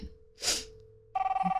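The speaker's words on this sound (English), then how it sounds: "That's a phone call, Kate." A telephone rings in a short electronic burst near the end, preceded by a brief breathy gasp-like sound against a faint steady hum.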